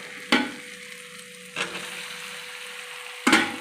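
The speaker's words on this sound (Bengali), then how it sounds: "দিয়ে আবার আমি 2-5 মিনিট আবার ভালো করে কষে নেব।" Raw jackfruit pieces stirred with spices in a hot pan, three distinct scraping stir strokes about 1.5 seconds apart, each followed by a soft sizzle, close and clear.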